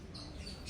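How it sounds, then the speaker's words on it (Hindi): Small bird chirping in a zoo bird sanctuary, a quiet high-pitched twittering that runs steadily through the moment, faint and somewhat distant, with no talk over it. "छोटा सा चिड़िया है।"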